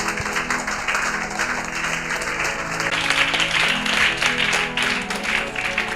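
A church congregation applauds in acclaim of Jesus Christ at a worship service, with dense, sustained clapping from a large crowd that swells slightly partway through and carries on without a break.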